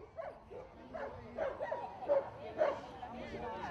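Dogs bark and yip at an outdoor agility show at a spring town fair, where dogs jump hurdles and run through hoops and tunnels; several short, distant barks rise over steady crowd chatter and a talking voice.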